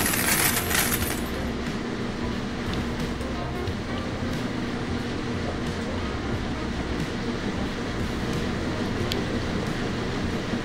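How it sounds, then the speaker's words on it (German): Coins clink and drop into a coin slot in the Laundromat Simulator video game, a bright metallic burst at the start, then a steady hum of machine and ambient noise under faint background sounds. "Wir müssen das Kleingeld erstmal da reinpacken."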